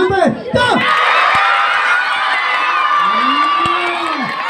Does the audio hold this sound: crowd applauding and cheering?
yes